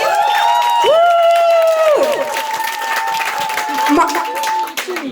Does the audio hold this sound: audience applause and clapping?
yes